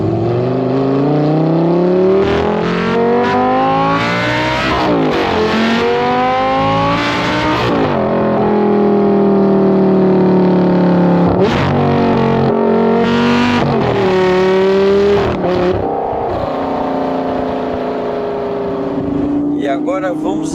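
Lamborghini Gallardo Superleggera engine pulling hard while driving, loud and close, with rising and falling tones through repeated gear changes, and speech faintly under it.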